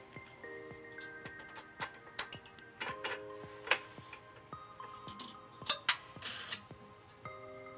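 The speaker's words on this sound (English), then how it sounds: "we're going to install our provided flange nuts" Flange nuts clink and tick against the trailer hitch bolts on a 2018 Subaru Impreza Hatchback, a series of faint, scattered metallic taps and small rattles.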